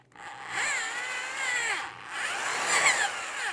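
Drill spinning a cylinder hone inside a Yamaha 250 cylinder, a close steady whirring with rising and falling pitch and a scraping edge, lasting a few seconds with no talk.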